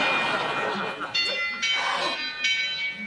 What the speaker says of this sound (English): Do you hear the church bells?